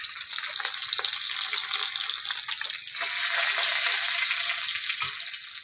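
Fish frying in hot oil gives a steady hissing sizzle throughout, fairly loud and continuous, swelling slightly midway with occasional faint clinks.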